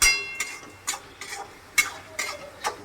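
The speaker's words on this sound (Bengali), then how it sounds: "এবার একটু নাড়াচাড়া করি" Paneer curry ingredients with salt and sugar being stirred in a pan: a series of six scraping strokes spaced about half a second apart, each a short bright swish with a faint sizzle beneath, close and moderately quiet, no talk.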